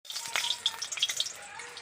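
Hot oil crackling and sizzling in a pan on the stove, ready for frying chicken, a steady close hiss with small pops and no talking.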